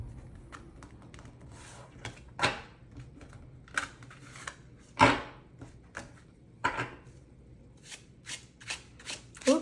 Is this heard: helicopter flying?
no